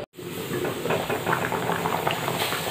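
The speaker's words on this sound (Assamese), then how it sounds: "এতিয়া ভালকৈ উতলিব দিম" A pot of curry made with wild yam and snakehead fish boils steadily, giving a close, continuous bubbling and gurgling with soft steam hiss after a brief silent start.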